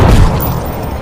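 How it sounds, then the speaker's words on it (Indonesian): A single loud booming shot rings out at the start, then its rumble fades away into a low, lingering echo. "Tembakan pun terjadi"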